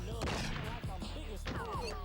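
Rapid bursts of gunshots crack out in the True Crime: Streets of LA video game, several sharp reports in quick succession over a busy mix of game sound, with some voice in the background.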